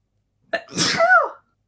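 A single loud, close sneeze with a sharp intake and a drawn-out burst, alone against silence.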